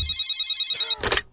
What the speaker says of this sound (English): Then the phone rings, Ando.